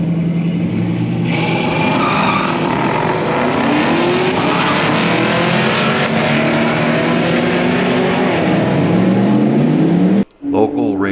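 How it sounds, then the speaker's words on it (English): Drift and drag cars race on the track at Firebird Motorsports Park during an open night, engines roaring loudly and continuously with rising and falling revs, then cutting out abruptly near the end. "Local racers can take their drift car or their drag car out on the track"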